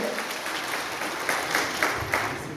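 Audience applause at the Kurucuova Keşkek Festival in Muğla, a dense, moderately distant patter of many hands clapping continuously for a couple of seconds.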